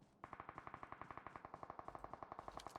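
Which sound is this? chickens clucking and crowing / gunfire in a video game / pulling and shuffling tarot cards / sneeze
gunfire in a video game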